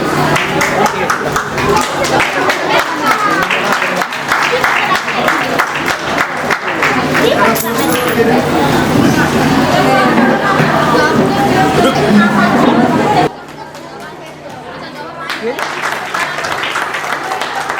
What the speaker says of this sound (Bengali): একবার জোরে হাততালি হয়ে যায়।